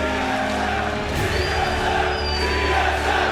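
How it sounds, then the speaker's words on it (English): A loud esports crowd cheers through a 2014 NA LCS Summer playoff semifinal between LMQ and TSM. The roar fills a large arena and stays dense and continuous, with no speech in it. "as you can hear the crowd cheering"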